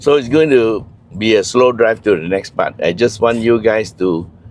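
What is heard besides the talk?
No distinct noise like a dog, phone or traffic.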